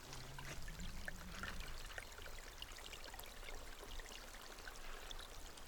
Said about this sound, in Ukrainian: проходжу своїм маршрутом струмочечок маленький тече.